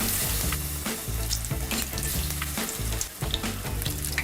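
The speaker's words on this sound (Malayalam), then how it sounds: "ഈ ചൂടായ എണ്ണയിലോട്ട് ഇട്ട് ഫ്രൈ ചെയ്തെടുക്കുക" Battered jackfruit fritters sizzle and crackle in hot coconut oil, a loud, continuous frying hiss with bubbling pops and occasional stirring scrapes, close up and with no talking.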